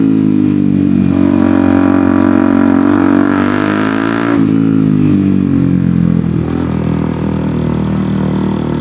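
A motorcycle fitted with an Akrapovic exhaust, loud and close, idling with a deep steady drone, then revving up to a higher snarling pitch mid-way before settling back to a rumbling idle.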